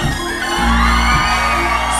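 An audience at the 2024 Dożynki harvest festival concert in Gmina Osiek Mały claps and whoops, a short loud wash of crowd noise over sustained band tones.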